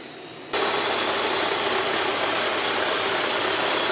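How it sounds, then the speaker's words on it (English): A car engine switches on and settles into a loud, steady idle, a constant broad rumble and vibration used to shake bubbles out of poured casting plaster for a silver ring. "I'm using my car engine."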